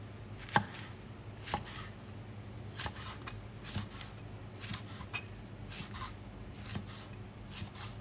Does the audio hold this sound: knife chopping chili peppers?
yes